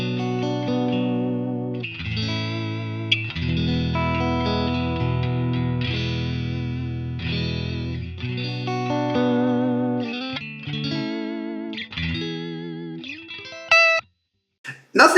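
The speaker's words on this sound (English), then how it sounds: "all you're hearing now is the amp and the stock cab" Clean electric guitar through a Line 6 Helix amp model and stock cab, neck and middle pickups, chords and melodic phrases with slight chorus shimmer, close and clear, ending in a few short plucked notes.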